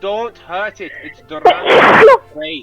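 A single loud, forceful sneeze bursts out between bits of speech at a tabletop role-playing session, with people talking just before and after it.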